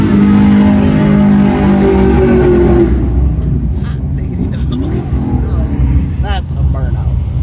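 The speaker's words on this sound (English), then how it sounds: "That's a burnout." A drag race car does a burnout, a loud engine roar with a rising rev that fades after about three seconds into lower rumbling under people talking and shouting nearby.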